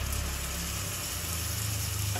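Grated tomatoes sauté for pav bhaji in a cooker pan with ginger, garlic and chilli. The hiss of the frying is soft and steady, with a low hum underneath, and nobody speaks.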